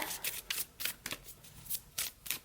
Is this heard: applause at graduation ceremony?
no